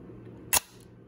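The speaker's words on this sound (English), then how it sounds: "Again, we cock the shutter a few times just to move it." Film camera shutter cocked and fired once while loading film, a single sharp mechanical snap followed by a short fading whir, close and alone against quiet room hiss.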